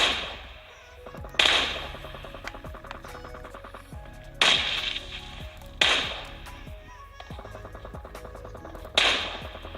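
Gunfire in the mobile shooter PUBG Mobile, played with a Gamesir G5 controller, comes as sharp, loud single shots spaced a second or more apart, each with a decaying tail over a steady game background hum.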